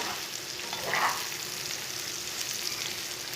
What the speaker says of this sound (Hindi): अब तोरी को 5 मिनट तक भून लेंगे।